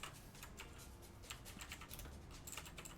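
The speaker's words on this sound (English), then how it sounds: "I'm tapping random buttons on my keyboard here." Rapid, uneven clicking of random keys being tapped on a computer keyboard, close and fairly quiet, with scattered keystrokes over a low steady hum.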